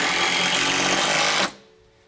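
A power driver runs a long screw into a steel gate brace on a wooden gate, a loud continuous whirring drone lasting about a second and a half and then stopping abruptly, with no talking.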